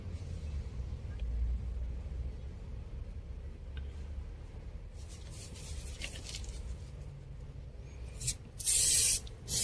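A steady hiss of spraying anti-corrosion coating onto primer on an Opel car runs throughout, with louder bursts of spraying near the end; faint rumbling underneath.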